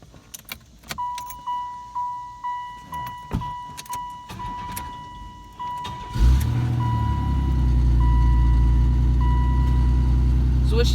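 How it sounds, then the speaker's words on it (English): A car's starter clicks and a key-in warning chime pings steadily, then the engine cranks and catches about six seconds in, settling into a loud, steady idle close by. "Now we're gonna start her up and see how she sounds."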